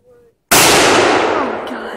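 A British .303 rifle fires a single loud, sharp shot close by, and its blast rolls away in a long echoing tail after a brief quiet murmur beforehand.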